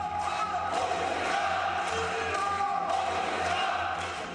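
BJP MPs chant slogans in celebration inside Parliament, a dense, continuous roar of many voices with cheering and whoops, loud and sustained throughout.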